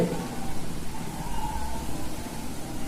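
Drizzling rain with gusts of wind during Cyclone Remal outside Satkhira Medical College, a steady broadband wash of rain noise with wind swelling in places, continuous and fairly close throughout with no talk.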